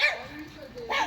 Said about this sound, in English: She's always fond of the small dogs. and you know they can bark